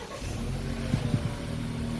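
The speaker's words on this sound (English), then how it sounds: "hit the brake and start the car" A 2015 BMW 428i's engine starts: a short burst of cranking and catch near the middle, then a steady idle hum continues close by without talk.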